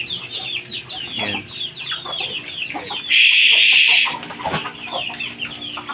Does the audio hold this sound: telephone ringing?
no